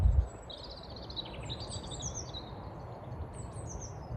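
Outdoor birdsong far off, thin chirps and short trills drifting over a steady low hum of background noise, with a brief low thump at the very start.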